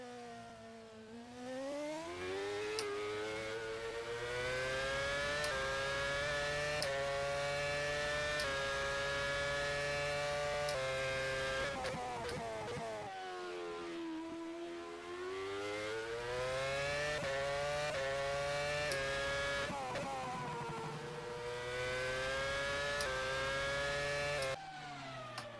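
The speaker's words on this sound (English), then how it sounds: "Listen to that nice engine." A Formula 1 car engine in the rFactor F1 2010 racing game at the Bahrain Grand Prix qualifying screams loudly and continuously, its pitch rising and falling through gear changes and throttle lifts, with a sharp cut near the end.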